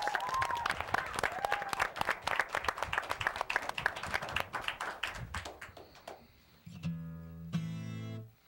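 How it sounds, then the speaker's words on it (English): An audience at a live late-night show applauds loudly, the clapping thinning out toward the end before a musical tone enters. "How about another round of applause?"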